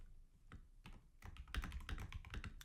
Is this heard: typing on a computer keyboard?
yes